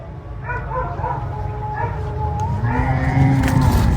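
A female dog yips and whines in short, high bursts close by, growing slightly louder toward the end.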